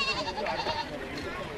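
A goat is sprinkled with holy water before a ritual slaughter and gives a short, wavering bleat, close and clear, with voices nearby.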